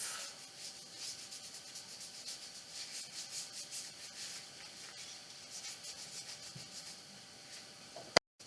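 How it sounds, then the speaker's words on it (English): An antique wax being rubbed onto a small recycled craft bear with a damp baby wipe gives a soft, steady, close-up rubbing hiss that runs evenly, then ends with a sharp click. "we just rub it on and rub it off"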